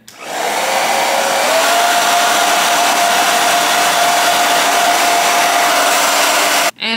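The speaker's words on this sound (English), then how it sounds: "I'm going to blow dry the lace tint so it really adheres to the lace" Hair dryer blowing on a lace wig to set lace tint, a loud steady close-up whoosh with a constant motor whine running unbroken for several seconds before cutting off.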